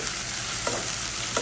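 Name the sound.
stirring crushed ginger and garlic frying in oil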